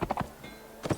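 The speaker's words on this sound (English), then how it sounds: "we can gallop" A horse gallops in the video game Mount & Blade Warband. Clusters of hoofbeats thud near the start, fall away into a quiet gap, then return near the end, with moderate loudness and no talk.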